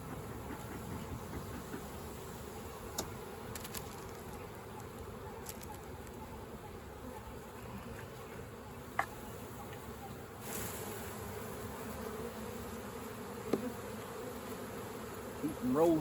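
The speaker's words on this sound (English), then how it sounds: "Keep them rolling bees." Honey bees buzzing around an open hive during a swarm cell inspection, a steady close drone that continues throughout, broken by a few faint clicks and knocks of equipment.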